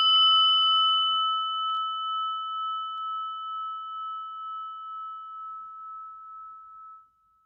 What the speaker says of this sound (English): listen to the bell until it stops ringing